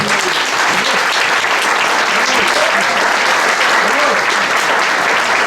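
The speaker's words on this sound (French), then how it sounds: "je vous demande de vous applaudir d'abord vous" A crowd at a political speech in Lyon applauds, loud, steady clapping filling the room without pause, with scattered shouts and voices buried in the din.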